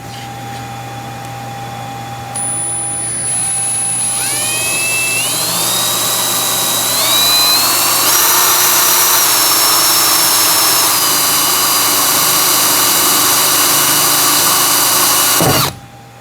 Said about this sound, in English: We only want to go through the first layer with our 1/8 inch drill bit.